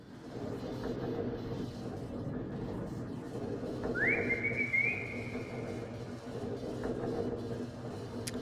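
A person whistles a single rising tone held for about a second, then a flatter sustained note, over a steady low rumble of background noise while trying to call dogs.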